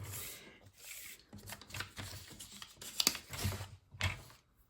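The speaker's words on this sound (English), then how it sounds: "we're just going to cut that 1/2 inch off" A paper trimmer or cutter slices half an inch off a sheet of cardstock, giving soft, close rasping and sliding sounds in uneven strokes with small clicks, quiet overall.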